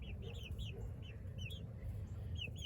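Chicks and laying hens in a pen give a faint chorus of rapid, repeated chirping peeps, with no talking.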